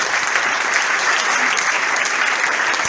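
A church congregation at a seminar applauds loudly, a dense, even wash of clapping from many hands that holds steady throughout.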